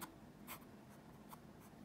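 A calligraphy brush scratches across paper while Japanese characters are written, soft and close, with a few brighter strokes standing out against a continuous faint rustle.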